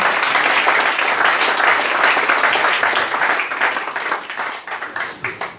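A church congregation applauds steadily and loudly together, the clapping thinning into a few scattered, fading claps near the end.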